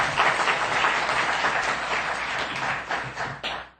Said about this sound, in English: Let's give Neena another round of applause